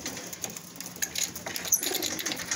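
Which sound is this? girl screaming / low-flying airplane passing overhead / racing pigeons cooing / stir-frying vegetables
racing pigeons cooing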